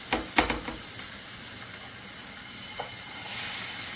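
Chicken pieces sizzling in a pan of oil just after flipping, a few sharp clatters at the start, then a steady moderate hiss and crackle continuing alone.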